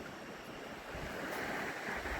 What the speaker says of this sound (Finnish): Siellä vedet pöhisee.